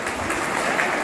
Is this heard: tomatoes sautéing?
no